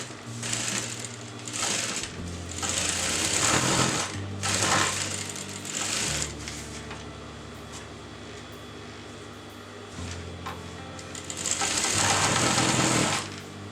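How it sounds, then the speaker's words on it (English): A sewing machine stitches a seam along a kurti or kameez fabric piece, running in several loud, steady bursts of rapid mechanical whirring separated by short pauses, with no talking. "I just want to sew half the way of this piece of fabric"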